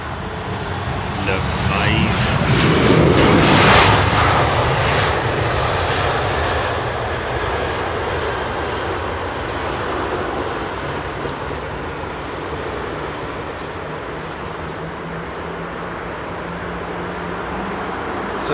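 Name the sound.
Air China Airbus A330 arriving at London Heathrow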